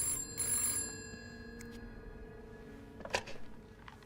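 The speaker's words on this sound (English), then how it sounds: "Is that the phone?" A telephone rings in the horror video game This Bed We Made, with a few bursts of bright ringing over a steady low room drone, the tones fairly faint and sitting back in the mix.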